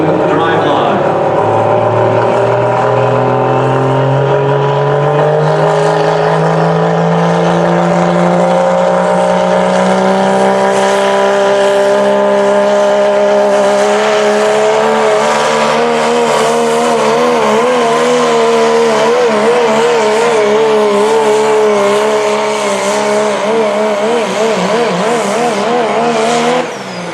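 A diesel pulling truck in the Outlaw Diesel Super Series Ultimate Callout Challenge, running an OEM chassis with full body on 35-inch DOT tires, roars loud and sustained down the track, engine pitch climbing as the tires spin.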